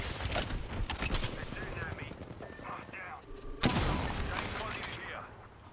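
Rapid bursts of video game gunfire crackle and pop in quick volleys, dense at the start, easing off, then swelling again with a louder blast near the end, with game voices faintly mixed in.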